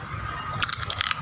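A single sharp, close crunch of teeth biting into crispy pata pork skin, a brief crackling burst lasting about half a second against a quiet background.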